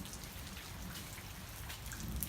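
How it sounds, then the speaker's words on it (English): Steady rain falls around someone walking outdoors, a dense, close patter of drops with faint splashes underfoot, soft and continuous with no voices. "that was just a video of me walking in the rain"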